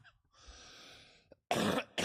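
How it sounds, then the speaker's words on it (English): A man coughing from smoke, two short harsh coughs close up after a faint wheezy breath, with no talk. "I'm coughing from the smoke"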